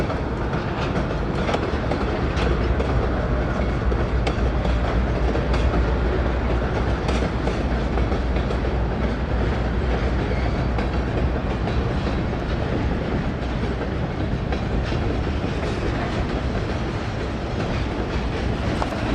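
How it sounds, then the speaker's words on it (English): BNSF freight train led by a pair of Dash 9 locomotives in Santa Fe war bonnet paint pulling out of a yard northbound; steady loud rumble and rolling wheel clatter throughout, with no voices. "the BNSF local pulling out of the yard northbound with a pair of Dash 9s on the head end"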